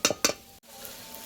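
Kolmi greens frying in oil in a pan alongside prawns, with two quick scraping stir strokes over the sizzle, then a brief cut before a lower, steady hiss resumes.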